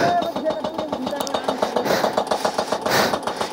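A motorcycle engine runs with a rapid, pulsing putter on a road blocked by a big landslide at Tinjure, Terhathum, Nepal, close and fairly loud, with voices over it.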